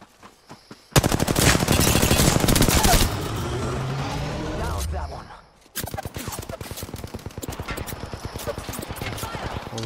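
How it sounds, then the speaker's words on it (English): Rapid automatic gunfire rattles in Apex Legends, a dense, loud burst of rapid shots that pauses briefly and then resumes in fast strings, with occasional talk over the action. "I'm getting shot at here"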